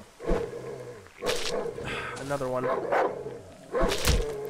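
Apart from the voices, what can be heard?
dog barking in the video game Darkwood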